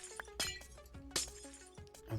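Glass blocks shattering in Minecraft, several crisp breaking crashes with tinkling debris at irregular intervals, fairly close against quiet game ambience.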